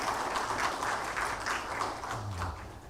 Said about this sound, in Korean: 성가대원들에게 다시 한번 감사의 박수하겠습니다